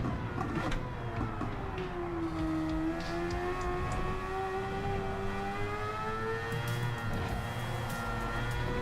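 Race car engine in Gran Turismo 7, a GT1 racer in a World Series event, holding a steady high whine that rises and falls gently with shifts, loud and continuous throughout.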